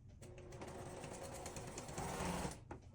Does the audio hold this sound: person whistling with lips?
no